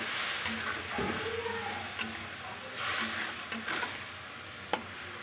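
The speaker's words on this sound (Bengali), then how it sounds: "অল্প জল দিয়ে এবার মশলাটাকে কষিয়ে নেব।" A spice paste of cumin, coriander and turmeric with a little water fries softly in a pan, a faint steady sizzle broken by a few light clinks of stirring.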